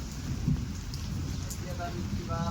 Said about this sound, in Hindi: बारिश आ गई ना अचानक से